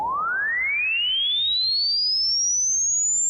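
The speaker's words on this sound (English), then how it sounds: "we want it to do what's called a sine sweep" A pure sine tone from a test oscillator sweeps smoothly upward in pitch, heading toward 20,000 Hz, steady and loud on its own with no voices.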